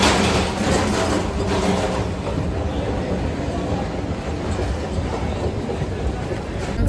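A Delhi metro train runs along the track with a steady, loud rumble and rolling rail noise, a continuous close-up hum filling the whole stretch.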